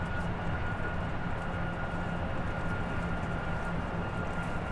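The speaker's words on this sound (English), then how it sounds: "That is a loud plane next to us." A loud, nearby airliner engine in Microsoft Flight Simulator, heard from an A320neo cabin, drones as a continuous broadband roar with a steady hum, alone and unchanging throughout.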